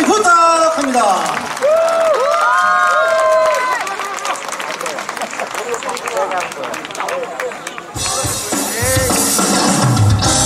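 Audience at an outdoor autumn music concert in Cheongna International City bursts into loud cheering and applause after a stretch of singing over music, the clapping and crowd noise dense and close for the final couple of seconds.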